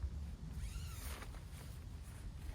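A hammock's zippered door being opened by hand, one zipper pull dragged along the track in a short, soft rasp under steady low background rumble.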